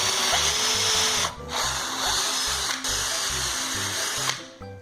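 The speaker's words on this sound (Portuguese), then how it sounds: "Eu vou ter que fazer um furinho aqui" A power drill bores a hole in a piece for a homemade adjustable dog pen, running steadily with two brief pauses, then stopping near the end; loud and close, with no talk.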